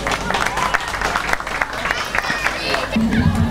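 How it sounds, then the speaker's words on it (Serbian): Audience applause at an outdoor patriotic commemoration in Zabrđe, Bosnia, with broad steady clapping and crowd noise filling the whole stretch. "Molim jedan veliki aplauz."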